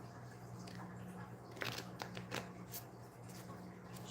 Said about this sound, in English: Shuffle up some message cards.